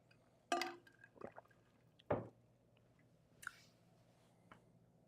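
Water is added to a glass of 100-proof Knob Creek bourbon, giving a short glassy pour and splash with a few faint clinks and drips in an otherwise quiet room.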